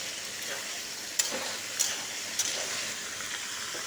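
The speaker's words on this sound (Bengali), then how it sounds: "এবার এর মধ্যে দিয়ে দিলাম, এবার এটাকে ফ্রাই করতে থাকবো" Small cut potato pieces sizzle steadily in a pan of hot oil, a continuous close hiss broken by a few sharp clicks and scrapes as they are stirred.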